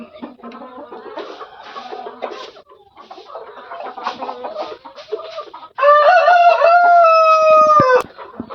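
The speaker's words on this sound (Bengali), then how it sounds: "এখানে একটা মুরগি বসে আছে ডিম দেওয়ার জন্য" Hens at a poultry farm raising Tiger chickens cluck in a close, repeated chorus, ending with a loud, sustained rooster crow near the end.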